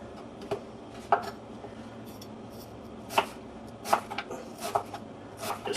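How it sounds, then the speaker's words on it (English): A knife cuts through an onion on a board in a home kitchen, making several sharp, sparse clicks and taps at irregular intervals over a low background. "just slice up the onion."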